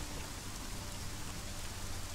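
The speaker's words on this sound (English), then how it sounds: "A cold rain." Rain in the video game Conan Exiles, a dense, even hiss of falling rain with no break, faint and continuous.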